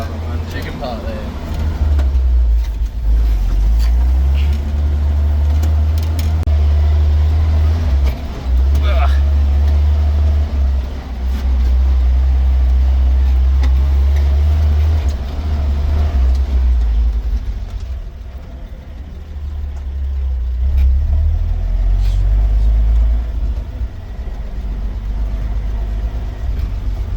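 Nissan Patrol G60 truck driving on a rough track, its engine a loud, deep, steady rumble that dominates throughout, with people talking over it.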